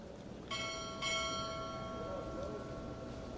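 Two sharp strikes of a ship's bell ring out about half a second apart during a Navy chief petty officer pinning ceremony. The bright metallic tone hangs and fades slowly afterward against soft room noise.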